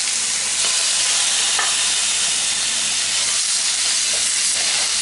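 Sausage browns in an electric skillet with a loud, dense, unbroken sizzle and hiss, with an occasional soft stirring scrape.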